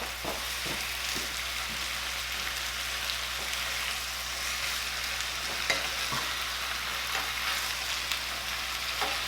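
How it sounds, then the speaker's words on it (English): A dish of butternut squash ravioli with bumbu merah cooks in a pan, giving a steady close sizzle with scattered soft pops and ticks throughout and no talking. "I'm just gonna let this simmer just a minute"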